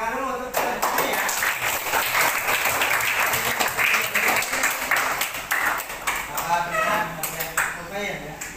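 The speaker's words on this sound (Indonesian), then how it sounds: "Tepuk tangan dulu untuk ini ya" A classroom of seventh-grade students claps together during an algebra lesson, a dense, steady burst of applause lasting several seconds, with a few voices mixed in before it tapers off.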